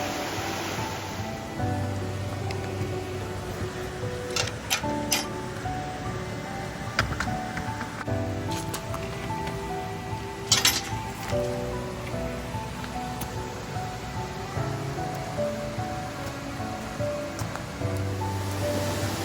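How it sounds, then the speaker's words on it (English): Steady rushing water pours continuously from a waterfall at Blaen Y Glyn, a broad hiss with occasional splashy spikes, no voices. "Getting the waterfall just falling off the edge"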